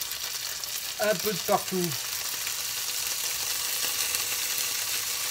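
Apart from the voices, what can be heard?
boudin blanc sizzling in a frying pan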